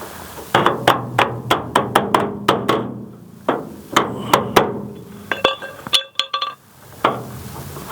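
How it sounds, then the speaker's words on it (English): Hammer and dolly beat the sheet metal of a 1963 C10 truck cab corner during restoration: a quick series of sharp, ringing metallic strikes with uneven pauses, up close and loud, with no speech over them. "a little bit of hammer and dolly"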